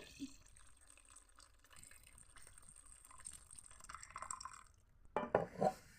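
Cooking water being tipped off a pot of boiled dal into another vessel for a gongura curry, a quiet trickle building to a couple of louder splashing pours near the end.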